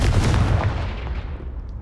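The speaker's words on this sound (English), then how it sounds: "Confringo!" The Confringo fire spell is cast in the Hogwarts Legacy video game, a single loud explosive blast with a deep rumbling boom that decays over about two seconds.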